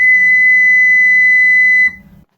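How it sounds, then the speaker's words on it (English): A tiny, high-pitched pipe of an electrically controlled pipe organ sounds one steady, piercing whistle-like note, held for nearly two seconds and then stopping cleanly. "there's this really tiny, high-pitched one"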